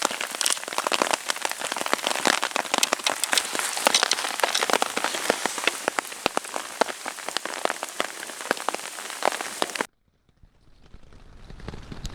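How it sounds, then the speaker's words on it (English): Dense, steady patter of rain drumming on a backpacking tent in the Manzano Mountains of New Mexico, close and loud, cutting off abruptly near the end. "waiting for it to stop raining."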